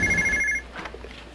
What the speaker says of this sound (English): Ooh, it's my phone.